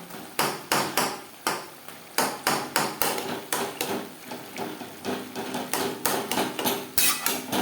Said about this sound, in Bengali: খুন্তির সাহায্যে লঙ্কাগুলো এভাবে একটু ম্যাশ করে দেবো